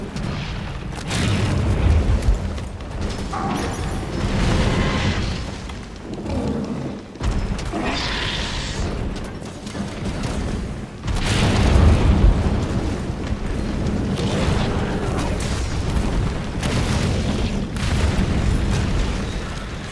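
Barrel bombs in Monster Hunter World go off in a string of loud, booming blasts that keep rolling for about twenty seconds, with brief dips between bursts.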